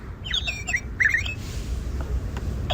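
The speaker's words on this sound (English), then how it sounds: "Sparrow." A few quick, bright chirps from a sparrow in two short bursts, then quiet low background rumble.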